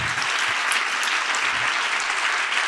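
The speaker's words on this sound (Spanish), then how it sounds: "Fortísimo aplauso." Dense, steady applause from an audience at the close of a talk on addiction, filling the whole stretch at an even level with no voices on top.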